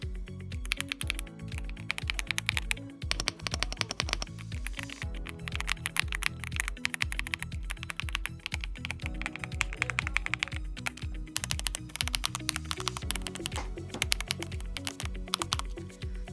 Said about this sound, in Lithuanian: Ir dabar paklausykime klaviatūros garsų